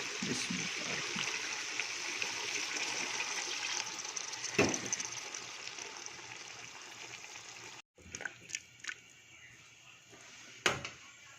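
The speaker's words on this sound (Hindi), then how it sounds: "अभी इसको गलाने के लिए मैं इसमें थोड़ा पानी शामिल कर रहा हूँ।" Water poured into a cooking pot of capsicum and potato, a steady broad pouring rush for about eight seconds, then cut off, leaving a few brief splashes and drips.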